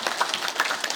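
An audience claps for an unaccompanied vocal group at a Buddhist book launch ceremony in Busan, producing a dense, continuous patter of many hands that is fairly loud and steady for the whole second.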